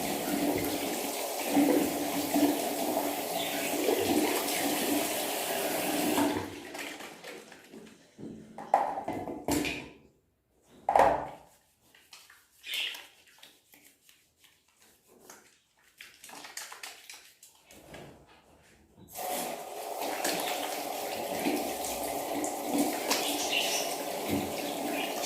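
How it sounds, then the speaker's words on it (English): Running tap water pours steadily during handwashing, stops for a stretch of quieter rubbing and handling noises, then gushes again, close and moderately loud. "I need to wash my hands"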